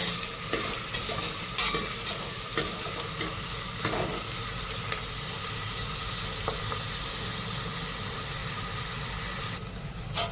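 Chopped onions hit hot oil in a pan for chenaga pappu, sizzling steadily with scraping stir strokes and occasional sharp clicks of the spoon against the pan, close and continuous.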